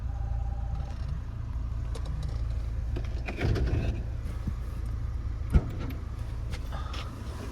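A Daewoo Nexia 2 car engine runs at a steady low idle drone, continuous throughout and moderately close, with a brief louder swell partway through and a single sharp knock near the end.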